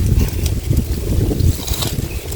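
Strong wind buffets the microphone in continuous low rushing gusts, with a faint whistle of air in the background.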